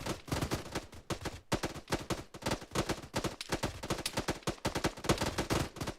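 Rapid, dense gunfire in ARMA 3 during an assault on rubber dinghies at a choke point, continuous bursts of automatic weapons overlapping with single shots, steady and close throughout the whole stretch.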